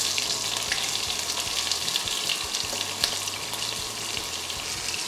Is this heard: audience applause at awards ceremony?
no